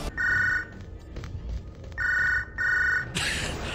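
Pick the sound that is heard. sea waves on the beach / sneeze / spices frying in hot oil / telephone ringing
telephone ringing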